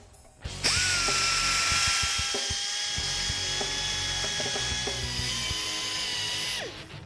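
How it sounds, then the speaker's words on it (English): A grinder with a stone chamfers the oil return holes in an engine block's valley, running at a steady high-pitched whine for several seconds after spinning up, with scraping contact noise, then winding down at the end. "using the grinder and the stone, I'm going to chamfer the holes in the valley so the oil has a nice smooth passage back to the pan"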